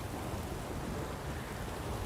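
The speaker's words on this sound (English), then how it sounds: "A storm, damn it." Steady dense rainfall pours in The Witcher 3, a continuous broadband hiss with a low rumbling undertone of a thunderstorm, even and unbroken throughout.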